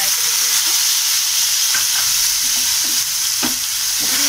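Paneer cubes fry in hot oil on full flame, a loud steady sizzle up close with occasional stirring scrapes and no talking.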